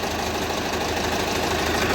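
A YuMZ-6 tractor diesel engine running after crankshaft replacement, a dense, even, knocking mechanical rumble heard close and continuous, with no speech.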